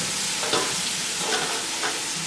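Chicken, capsicum and other vegetables stir-frying in a hot pan, a steady close sizzle with occasional stirring scrapes and bursts, no talking.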